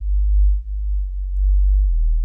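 A deep, sustained synth bass tone hums steadily on its own, smooth and loud with a slight wavering swell.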